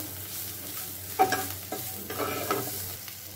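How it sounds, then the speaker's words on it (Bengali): Salted fish stirred and fried in a pan, a steady low sizzle broken by a few sharp spatula scrapes and clatters, close up with no talk. "নুন দিয়ে মাছগুলো ভালো করে নেড়ে চেড়ে ভেজে"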